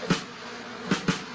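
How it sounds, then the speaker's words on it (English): Buzzing insects, likely bees, pass close by in three short bursts, one early and two near the end, over a low steady hum. "The bees."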